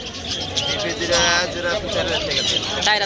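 Pigeons and other birds for sale at a crowded winter bird market coo and chirp steadily beneath loud, continuous bargaining voices nearby.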